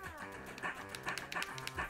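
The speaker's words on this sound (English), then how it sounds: "Dog breath." A dog pants in quick, rhythmic breaths inside the video game South Park: The Fractured But Whole, faint and under a busy game soundtrack.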